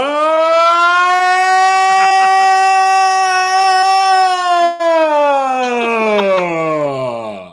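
A person's voice imitates a tornado siren, a long loud wailing tone held steady, then sliding downward at the end.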